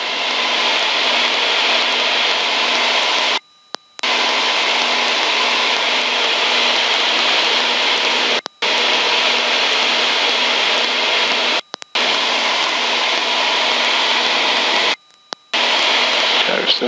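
Twin piston engines of a Beech Travel Air during a multi-engine training flight drone loud and steady from the cockpit, broken by a few short dropouts to silence.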